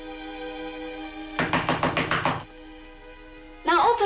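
Seven or eight firm, rapid knocks land on a wooden door in a western drama, close and loud over a steady music bed, followed by a voice.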